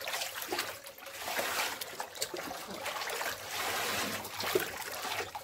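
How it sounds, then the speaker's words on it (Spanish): Water pours and trickles steadily at close range while tamales de frijol are made at a family gathering in El Salvador, a continuous splashing stream with no voices over it. "es toda el agua que está cayendo"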